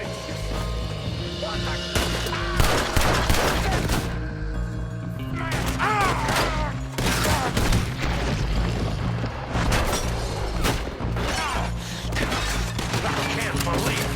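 Heavy gunfire erupts in a shootout in Red Dead Redemption 2, with loud booming shots, rapid volleys and crashes stacked densely over about fourteen seconds, while character voices shout over the battle.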